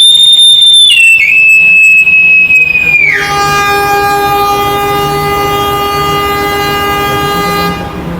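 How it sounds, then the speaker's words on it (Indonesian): A Mataram passenger train hauled by a CC201 diesel locomotive departs with a loud, piercing horn blast whose pitch drops. A steady, droning engine rumble with sustained tones follows, close and continuous. "Kita lihat dulu teman-teman keberangkatan dari kereta api Mataram ini."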